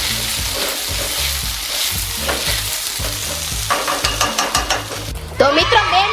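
A spatula stirs a sizzling vegetable mixture with oregano and chili flakes on a hot tawa for pizza dosa: a continuous loud fry, then a run of rhythmic scraping strokes near the end.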